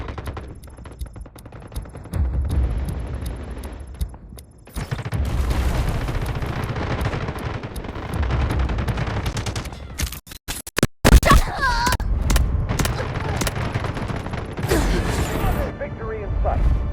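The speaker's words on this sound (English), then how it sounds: "Artillery barrage ready." Artillery barrage explosions and heavy gunfire in the video game Delta Force Mobile, with bursts of rapid shots, deep booms and a sudden sharp dropout, loud and continuous with voice lines mixed in.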